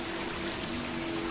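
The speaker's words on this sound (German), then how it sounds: "hinter einem kleinen Wasserfall" Small waterfall inside a cave in The Witcher 3: Blood and Wine, a steady close rush and trickle of falling water, with no voices over it.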